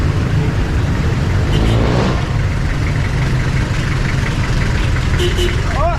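Steady low rumble of a jeepney engine idling on a Philippine street, continuous and fairly close, with someone talking over it and brief traffic noises around.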